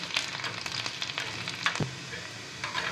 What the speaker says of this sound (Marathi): आता ना लो फ्लेमवरच आहे ना या लसणाच्या ज्या पाकळ्या आहेत त्या छान लालसर तळून घेऊया।